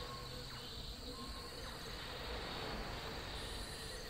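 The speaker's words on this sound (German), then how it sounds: "Schnell, solange Cheep Cheep die Bienen ablenkt" Swarming bees drone in the old temple of The Book of Unwritten Tales, a steady insect buzz under game ambience and music, constant and fairly close throughout.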